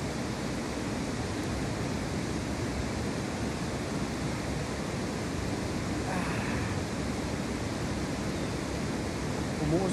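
A natural hot spring in Naga City, Philippines, with 32-degree water bubbling up from below, gives a steady, even wash of hissing water noise that holds at one level throughout.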